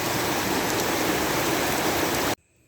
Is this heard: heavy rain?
yes